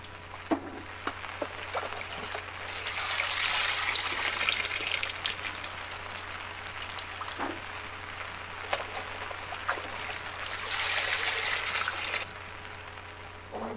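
Water from a pot is poured out during home winemaking, making a steady, loud gushing splash that swells and eases for several seconds, with a few sharp knocks along the way and no talking.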